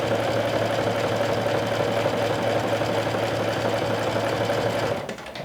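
A sewing machine stitches a dress hem in a steady, continuous run of fast mechanical clatter with a constant motor hum, close and loud, stopping abruptly near the end.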